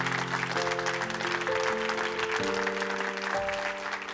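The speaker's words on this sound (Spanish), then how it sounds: "si lo crees, por favor, dale el mejor aplauso a Jesús" Congregation applause during a church sermon, a continuous wash of clapping under sustained organ or keyboard chords that shift pitch, steady and moderately loud throughout.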